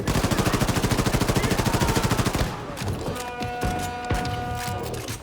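Automatic weapon fire in the shooter game Wolfenstein II, a loud rapid machine-gun burst for about two and a half seconds, then scattered single shots and clanks over a background music track, with no talk.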